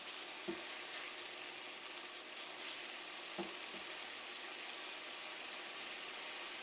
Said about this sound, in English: We'll basically fry off extra moisture that we don't want there.